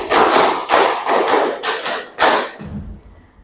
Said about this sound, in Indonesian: Dua kali tepuk lima.